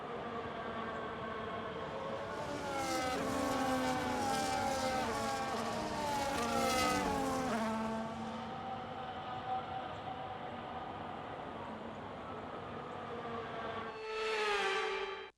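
Formula One cars roll through a formation lap at the Chinese Grand Prix in a racing video game, a continuous engine drone with rising and falling whining tones that swell mid-way, then a brief louder burst near the end.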